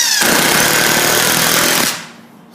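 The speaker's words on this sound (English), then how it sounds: "he's just going to screw right through the corner of those two studs into there" A power drill drives a screw through the corner of two wooden studs, a loud, steady whir and grind lasting nearly two seconds before cutting off abruptly.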